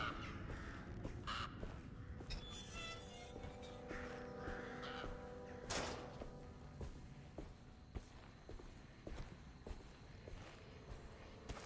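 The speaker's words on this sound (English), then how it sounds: "Birds." Crows caw in the Alone in the Dark video game, several harsh calls ringing out over soft footsteps and a low ambient drone, with occasional sharper knocks.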